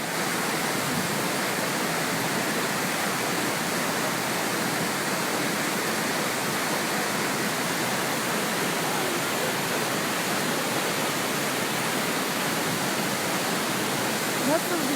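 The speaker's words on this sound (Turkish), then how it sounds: "Güden Şelalesi, Antalya." The Güden waterfall in Antalya roars in a dense, unbroken rush of water that stays loud and steady throughout.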